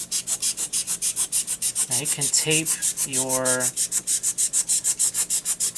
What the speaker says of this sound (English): What I'm going to do is set my knife at an angle. I'm going to use this sawing action.